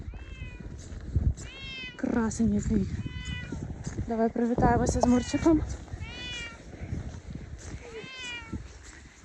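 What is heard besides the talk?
cat meowing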